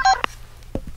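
Phone keypad dialing in the video game Scarface: The World Is Yours: a loud, clear DTMF tone followed by a short beep, then a couple of faint soft thumps.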